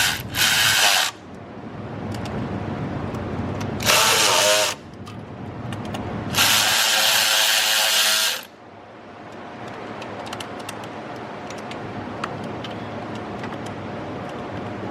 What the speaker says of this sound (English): tighten this intake runner down